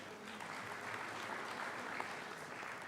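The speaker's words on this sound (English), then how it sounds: "So we want to applaud you, Dr. Pando." An audience at a South Africa and Botswana business forum applauds, a dense, even wash of many hands clapping steadily at moderate distance without pause.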